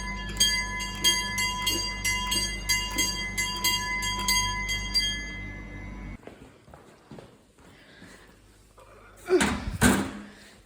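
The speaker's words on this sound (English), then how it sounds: "I'll ring the 10-minute bell." A ten-minute dinner bell is rung repeatedly in a rhythmic, resonant clanging run of about a dozen strokes over five seconds, followed by quieter handling noises and a couple of louder knocks near the end.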